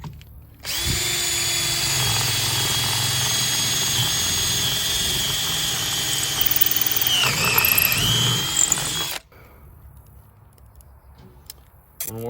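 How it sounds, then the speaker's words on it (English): A power drill re-drills through a wooden piece holding a dowel: a sharp start, then a sustained loud whine that rises in pitch before cutting off, followed by quiet. "so I'm just gonna re-drill through the wood part."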